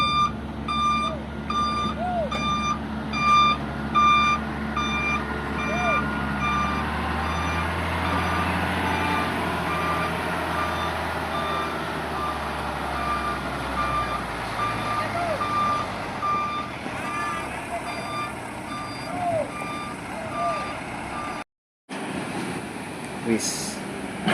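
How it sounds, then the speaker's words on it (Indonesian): A heavy lowboy truck that will carry a pontoon reverses with repeated high-pitched backup beeps at a steady rhythm, its low engine rumble underneath and a voice talking at times. "ini adalah truk Loboy yang akan membawa ponton"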